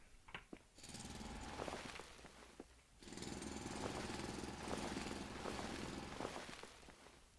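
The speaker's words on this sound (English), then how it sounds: "I'll just keep drilling until our inventory's full." A drill grinds through ground in the game Foundry, a loud rough continuous rumble in two long bursts separated by a brief pause, with scattered crunching and crumbling debris.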